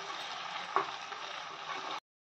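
Fruit pulp is stirred in a pan on a stove, a soft steady bubbling hiss with one sharp scrape of the spoon, ending abruptly.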